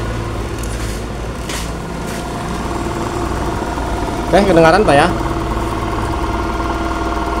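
A Yamaha NMAX scooter engine runs with a steady mechanical hum and vibration, running without its cam chain, while a person speaks briefly over it partway through.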